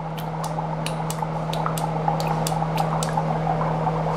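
Liquid soap squeezed into a mug of water with boiling dry ice, heard as a string of small wet drips and squishes over a steady bubbling hum, with no talking.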